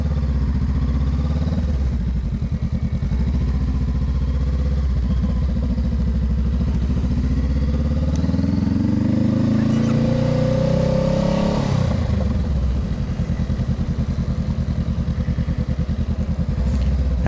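A Honda Rebel 500 motorcycle engine runs steadily and loud throughout an early-morning ride, its pitch rising as it accelerates through the middle and then dropping off, with wind and road noise underneath.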